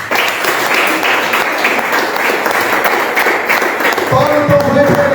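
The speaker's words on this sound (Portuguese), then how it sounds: "Palmas para o Senhor Jesus." A packed church congregation applauds the Lord during a sermon, a dense, loud, continuous clapping that carries through the whole stretch, with a voice breaking in near the end.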